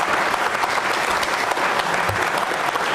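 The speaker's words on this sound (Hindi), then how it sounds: "तालियां जोरों से बजाइए गौ माता के सम्मान में आप" Loud, dense applause from a studio audience at a televised quiz program, continuous clapping that fills the whole stretch without pause.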